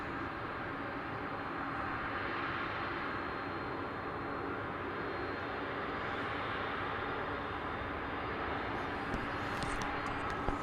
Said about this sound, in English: And here comes the big MD-11.